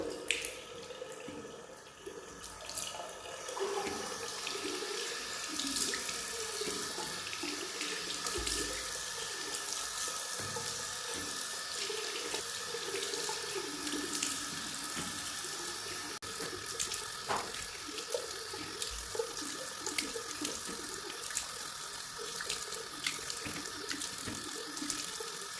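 Tap water runs steadily into a sink while a face is being washed, a constant close splashing hiss with small drips and splashes throughout, and no talking.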